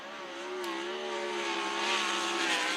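A race car lapping the track at Skagit Speedway during qualifying: a sustained engine whine rising slightly in pitch as it passes, heard from a moderate distance with steady crowd and track ambience and no talking.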